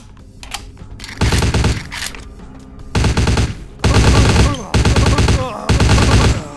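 Bursts of rapid gunfire from a firearm in the video game Vampire: The Masquerade – Bloodlines, several loud volleys of a few rounds each separated by brief pauses, heard alone.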